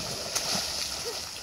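Someone jumps into a river, making a single brief splash amid steady, rushing water, with voices murmuring nearby outdoors.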